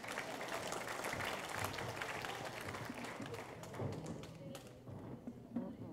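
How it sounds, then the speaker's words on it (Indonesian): Audience applause at a regional government presentation forum in Polewali Mandar, a steady dense wash of clapping throughout that thins slightly toward the end, with some voices mixed in. "tepuk tangan Bapak Ibu"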